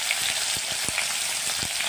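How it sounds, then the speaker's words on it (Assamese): Sliced onion frying in hot oil in a kadai for a fish curry, a steady close sizzle and crackle with a few sharper pops, no voices. "পিঁয়াজখিনি অলপ ভাজি ল'ম"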